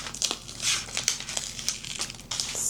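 Cut Cricut vinyl is peeled and weeded off its backing, giving close crinkly crackles and short peeling bursts in an uneven rhythm, with no voices.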